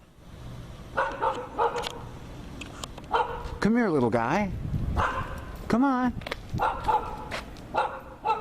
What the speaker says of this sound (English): A lost dog challenging the night.